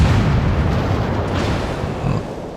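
Heavy booming naval gunfire from an enemy warship in World of Warships, a loud low rumble of shell blasts rolling continuously and close with no talk over it.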